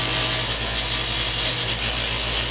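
A power sander runs steadily on the chamfered edges of a small wooden part, a continuous close abrasive whir with no pauses.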